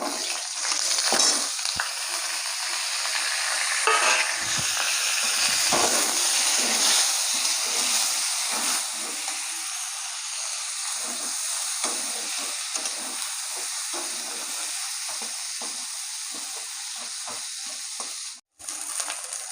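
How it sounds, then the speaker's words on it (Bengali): Drumstick pieces frying in hot oil, a long, even sizzle with occasional spatula stirs and scrapes, loud and close throughout with a momentary dropout near the end. "এই যে ডাঁটাগুলো ভেজে নেবো।"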